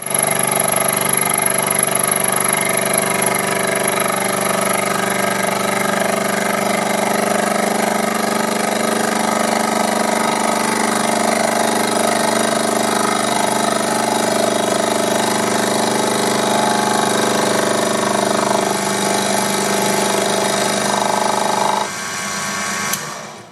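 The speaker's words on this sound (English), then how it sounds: "This small lathe can't cut deep enough to go through the scale" A small Proxxon PD 250 benchtop lathe cuts a steel shaft with a steady, continuous motor whine and cutting hum. It runs loud and close for about twenty seconds before winding down, with no talk.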